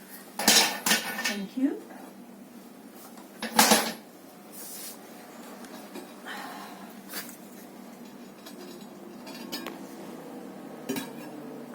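Bisque-fired ceramic pieces clink and knock together as they are lifted out of a pottery kiln, a few sharp close clatters then lighter scattered taps, with a brief spoken word.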